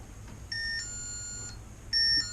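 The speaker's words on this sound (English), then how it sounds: "Set your alarm up there. Somebody comes up the driveway." A Bunker Hill Security driveway alarm from Harbor Freight sounds two short electronic chimes, bright clean tones heard close and alone over quiet background hiss.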